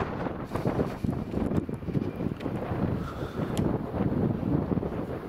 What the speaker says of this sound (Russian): тут ветер забивает